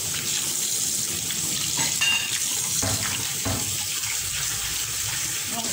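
A kitchen tap runs continuously, a close and steady hiss of flowing water with faint speech underneath.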